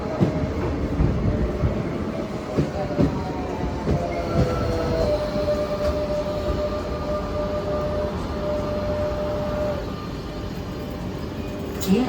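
A train arrives and runs through a Barcelona station, a steady loud rumble of wheels and motor with faint squeals and clicks; brief voices are audible in the background.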